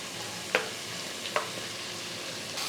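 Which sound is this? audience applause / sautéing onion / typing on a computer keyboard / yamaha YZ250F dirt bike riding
sautéing onion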